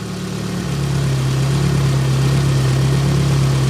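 A Nissan 200SX engine running on only its exhaust-side ignition coils, holding a steady, close, even idle drone with a low hum and no audible misfire.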